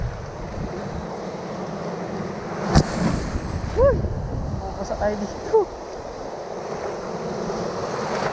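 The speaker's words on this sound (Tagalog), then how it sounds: "Malakas yung alon." Strong ocean waves surge in a constant rough roar with wind buffeting the microphone, while people shout and talk close by over the surf.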